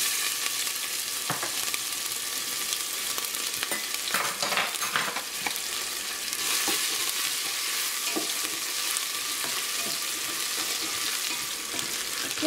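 Chopped onion and garlic sizzle steadily in hot coconut oil with cumin seeds in a pan, a continuous close frying hiss with occasional scraping stir sounds and no talk.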